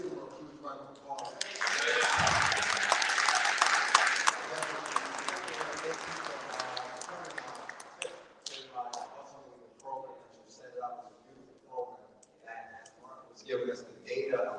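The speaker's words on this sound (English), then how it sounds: "Let's give him a huge round of applause" Crowd applause at a men's community meeting, a loud sustained burst of clapping that peaks early, then tapers off as talking voices take over.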